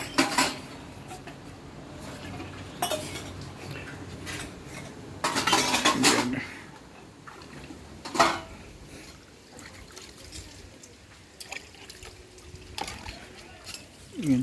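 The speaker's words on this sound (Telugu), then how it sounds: "అంట్లు కడుగుతుంది" Dishes being washed by hand in a village home, plates and pots clattering and clinking in irregular bursts over trickling, splashing water, with voices talking nearby.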